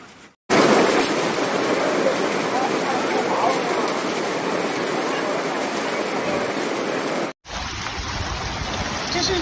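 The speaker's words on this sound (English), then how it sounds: "这是在长沙开福区下冰雹了，大家可以看一下好大一个个的冰雹啊！" Heavy rain mixed with hail beats down in a storm in Changsha, Hunan: a dense, loud, continuous roar of pelting drops on surfaces. It cuts off briefly twice, and a voice is heard faintly.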